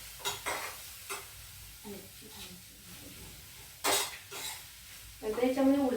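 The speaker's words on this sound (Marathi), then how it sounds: "कांदा हा पूर्णपणे छान फ्राय होईल अशा पद्धतीने, पण जळणार नाही, काळपट होणार नाही अशा पद्धतीने आपल्याला तो भाजून घ्यायचा आहे" Chopped onions frying in a pan while a spoon stirs them, with soft sizzling, clinks and scrapes of utensil against the pan in uneven bursts, fairly quiet, and a voice heard briefly at the end.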